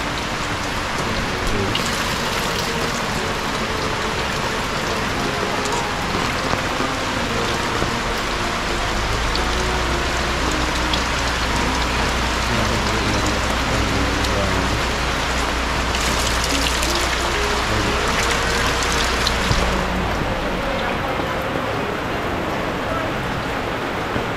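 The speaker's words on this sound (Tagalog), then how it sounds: "Ulan, inabot ko kami ng ulan." Steady rain pours down outdoors in the Philippines, a dense continuous hiss of drops on surfaces with a low rumble rising in the middle, loud and unbroken throughout.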